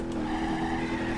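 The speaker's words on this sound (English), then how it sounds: "You can still do a gnarly burnout in the SS Mega Dunk, even if you have a 100-mile-an-hour front-end collision" An SS Mega Donk car in BeamNG.drive does a burnout after a front-end collision, with a loud, sustained engine roar and squealing, skidding tires, steady and close.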